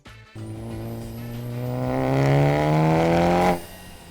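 A B8 Audi A4 engine revs up through a loud, throaty aftermarket exhaust, pitch climbing steadily for a few seconds before cutting back abruptly.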